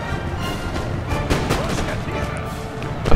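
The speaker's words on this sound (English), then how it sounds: "My old guard aren't doing much at this point because they're firing straight into a hill." Massed musket volleys from Old Guard infantry in Napoleon: Total War crackle and boom in a dense, continuous barrage, with talk running underneath.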